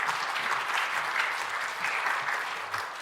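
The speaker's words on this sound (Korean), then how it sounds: "나오실 때 우리 큰 박수로 환영하겠습니다." A Korean church congregation at a youth revival service gives a big round of applause to welcome the guest pastor, a continuous, full-room clapping that stays steady for a few seconds.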